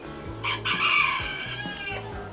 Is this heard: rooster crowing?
yes